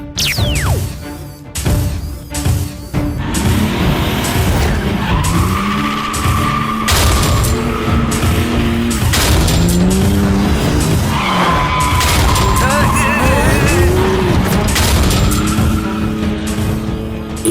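A cartoon car skids and spins around with loud, sustained tire squeals and revving engine noise, rising and falling in long sweeps with brief thuds, no talk.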